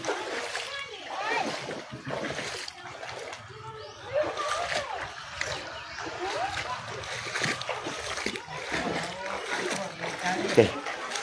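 Floodwater splashes and sloshes inside a house, with continuous irregular splatters close by and people speaking over it.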